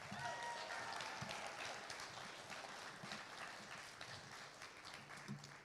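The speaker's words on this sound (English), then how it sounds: "Give yourselves a big hand, a big applause." Graduation ceremony crowd applauding, heard faintly as a distant, steady patter of many hands that gradually eases off.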